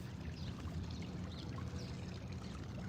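Running water pours and trickles continuously at a fishing spot, a steady soft wash of bubbling with no pauses and no voices.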